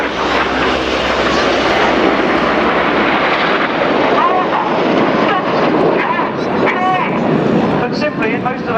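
Red Arrows RAF jets roar overhead at the Yeovilton air show, a loud sustained engine rumble that swells and fades as the formation passes, with a commentator talking throughout.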